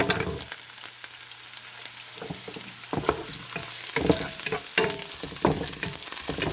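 Garlic sizzles in a hot pan with oil, a soft steady fry broken by repeated scraping and stirring strokes of a utensil, close and without any talking.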